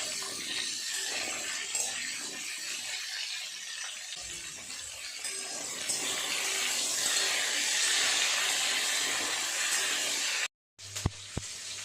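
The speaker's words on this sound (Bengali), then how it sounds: "একটু নেড়ে চেড়ে সবজিগুলো ভেজে নেব।" Drumstick vegetables stirred and frying in a pan give a steady close hiss and sizzle that holds throughout, cut by a short silence and a couple of sharp clinks near the end.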